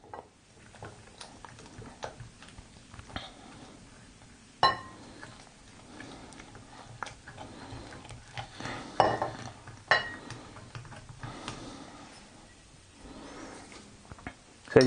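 Vegan chickpea scramble stirred with oat milk in a pan, with soft scraping and clinking of a utensil against the pan in irregular bursts, close and fairly quiet, a few sharper knocks standing out.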